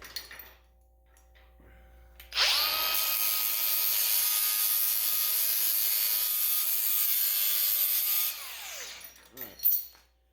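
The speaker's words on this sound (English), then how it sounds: "We're going to cut these two bolts off." A grinding wheel cuts through bolts on a trailer coupler, starting abruptly into a loud, steady high-pitched whine that holds for about six seconds before spinning down, followed by a few clanks.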